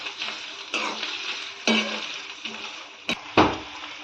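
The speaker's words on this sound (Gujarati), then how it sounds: "પનીર મસ્ત ફ્રાય થઈ જશે" Homemade paneer frying in oil in a pan, a soft crackling sizzle broken by a few spoon scrapes and clinks against the pan, close and fairly quiet.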